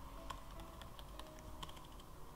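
Typing on a computer keyboard produces quick, faint, irregular key clicks close by, with no talk over them.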